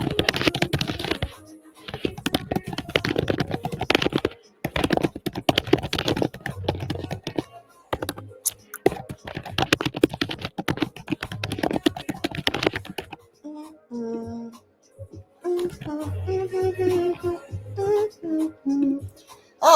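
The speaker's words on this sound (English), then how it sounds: "I gotta type some stuff." Computer keyboard typing in dense bursts of quick key clicks with short pauses, fairly close and clear, with some background voice or music underneath.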